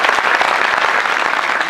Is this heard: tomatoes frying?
no